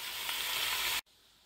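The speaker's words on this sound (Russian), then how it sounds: "пока у меня все жарится, парится" Food sizzles in a hot frying pan in a home kitchen, a loud, steady broadband crackle that cuts off abruptly after about a second, leaving only a faint residual hiss.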